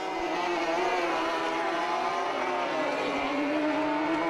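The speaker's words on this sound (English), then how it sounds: "954cc motorbike engines, they weigh next to nothing, these cars." Rallycross cars powered by 954cc motorbike engines race in the RX150 final of the British Rallycross Championship at Mondello, a dense, continuous high-pitched engine roar that stays loud and steady throughout.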